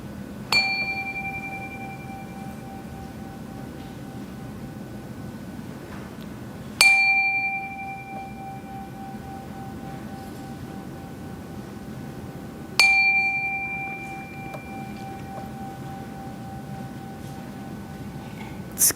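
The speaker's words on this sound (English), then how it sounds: "let us settle our minds, calm our hearts with the ringing of the chime." A chime struck three times at slow, even intervals during a Sunday service, each strike ringing out clearly and decaying slowly into quiet.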